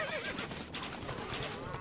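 A horse whinnies in Stronghold Crusader HD, a loud, close, wavering neigh lasting under two seconds, with faint hoof clatter around it.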